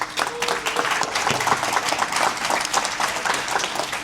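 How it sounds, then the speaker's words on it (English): An event audience gives a round of applause for Brant Phillips: a steady crowd of many hands clapping together, loud and continuous for the whole stretch with a few cheers mixed in. "Big round of applause for Brant Phillips."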